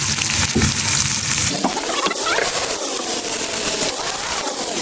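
Marinated chicken sizzles and fries loudly in a hot pan, with steady crackling and occasional stirring scrapes, close and continuous with no talk.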